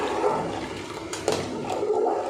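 Flour batter gushes and splashes steadily into a pot of boiling water, with a couple of brief sharper splashes partway through.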